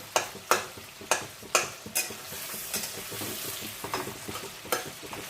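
Tomato dropped into a hot oil pan for Bengali pabda fish curry, giving a run of sharp sizzling bursts and stirring clatter at close range, which ease into a steadier frying hiss with no voices.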